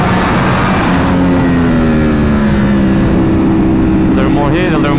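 A 2026 BMW M1000RR superbike engine pulls hard under acceleration, a loud, steady rising drone with wind rush throughout and a shift of pitch near the end.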